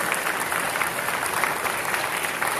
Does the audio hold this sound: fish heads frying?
no